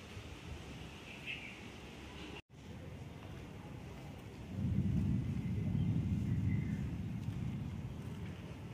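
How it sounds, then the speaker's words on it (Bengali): Low thunder rumbles in the distance during a gusty pre-rain afternoon, swelling into a deep, sustained roll midway and fading slowly, with wind buffeting the microphone and a brief dropout early on. "গুড়ু গুড়ু মেঘ ডাকছে।"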